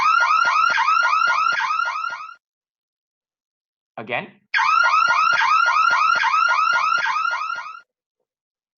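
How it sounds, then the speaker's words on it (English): A warbling electronic siren in two long, loud, rapidly repeating bursts separated by a short silence, with a brief spoken word in the gap. "The siren heard, the sound heard by the motorcyclist is from soft to loud"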